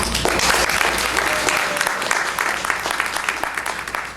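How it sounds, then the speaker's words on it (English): An audience at a 2012 National Coming Out Day event at the Jacobs Center, San Diego, claps steadily throughout, a dense, close wash of applause with a few voices mixed underneath. "Please, another round of applause for him."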